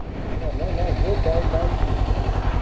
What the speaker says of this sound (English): It's still stock exhaust, so it's not very like loud.